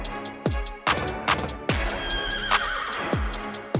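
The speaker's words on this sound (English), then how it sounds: "The horse." A horse neighs repeatedly in loud, close whinnies, several shrill descending calls in a row with hoof clip-clops and no voices.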